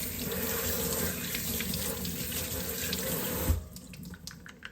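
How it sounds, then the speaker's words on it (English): Tap water runs steadily into a sink while a removable part of a DeLonghi Magnifica coffee machine is rinsed, a close, continuous splashing rush that thins out in the last second. "Now, this part you can rinse."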